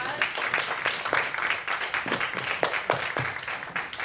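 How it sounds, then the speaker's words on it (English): An audience at an empowerment training session for Jewish women with disabilities claps for a presenter, a steady, moderately faint round of applause lasting several seconds with no talk over it. "Let's give Lori a round of applause."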